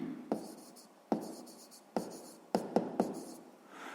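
Pen writing figures on paper while working a sixth-grade maths exercise, heard as a series of sharp scratchy strokes and taps at irregular intervals, close and clear, with no voices.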